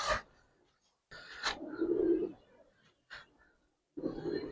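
A pigeon, a high-flyer or racer breed, gives low throaty coos in a few separate bursts, close by, with quiet gaps and some light rustling between them.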